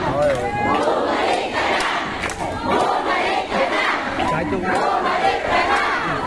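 A large street crowd in Old Santa Mesa shouts and cheers together, a dense, continuous roar of many voices with overlapping yells rising and falling, loud and close, for the full stretch.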